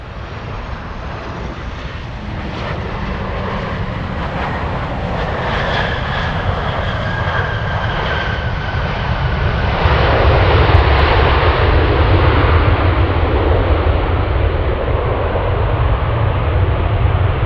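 Alaska Airlines jet bound from Seattle taking off at Anchorage, a steady broadband engine roar that swells slightly louder partway through and holds, heard from a distance with no talk.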